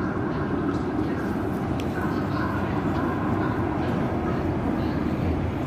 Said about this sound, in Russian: Посмотрите, как метро выходит.